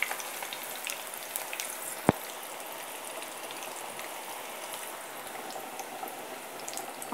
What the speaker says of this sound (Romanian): Le prăjim pe o parte și pe cealaltă.